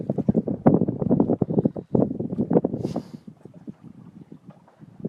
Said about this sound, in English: I got the wind blowing and everything else here